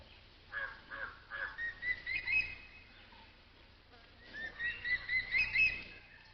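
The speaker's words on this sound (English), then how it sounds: "A crested hawk eagle calls to its mate." A crested hawk eagle calls from forest edge near a Bengal tiger kill in India, giving two bursts of several rising, whistled notes each, fairly faint and distant over a soft buzz of insects.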